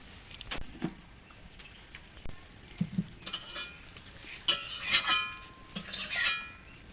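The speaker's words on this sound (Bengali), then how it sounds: "এবার মিশ্রণটি ভালোভাবে মিশিয়ে নেব একটু" A potato and raw banana kofta mixture with chopped onion and chilli being mixed in a bowl, heard as scattered close clinks, scrapes and light knocks of a utensil, irregular and fairly quiet, with no talking.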